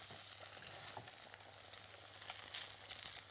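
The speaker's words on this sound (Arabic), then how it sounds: "فبحاول اعرضها للزيت من غير ما تغمق قوي" Potato and cheese balls frying in hot oil give a steady, quiet sizzle and crackle with faint bubbling, unbroken and close for a few seconds, no talk.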